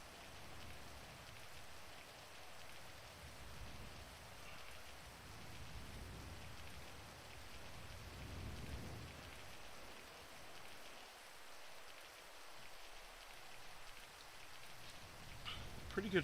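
Steady rain falls in Grand Theft Auto V. It makes a soft, even patter that carries on throughout, faint and unbroken, with a few small knocks near the end.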